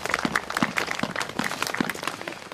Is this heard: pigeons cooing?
no